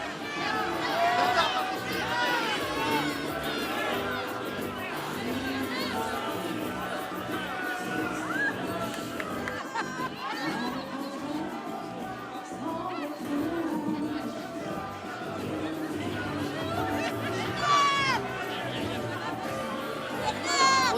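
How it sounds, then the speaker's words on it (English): Dense crowd noise at the Cannes Film Festival red carpet, a steady roar of chatter and calls from many fans surrounding a film star signing autographs, sustained and fairly loud throughout with no single voice standing out. "And the crowd is shouting out his name."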